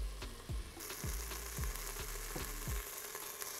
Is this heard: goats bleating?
no